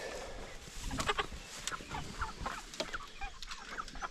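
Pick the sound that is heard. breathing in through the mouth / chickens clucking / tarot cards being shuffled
chickens clucking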